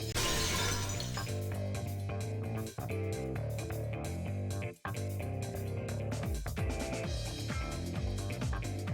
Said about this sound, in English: The sounds of breaking glass are accompanied by a light cutting through the gloom.